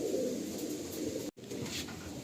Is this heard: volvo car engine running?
no